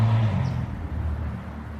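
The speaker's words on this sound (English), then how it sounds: "Loud car, sorry." A loud car rolls past outdoors, a heavy low rumble that starts strong and gradually fades as it moves away, with no talking over it.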